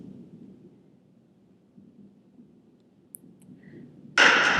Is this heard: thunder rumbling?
yes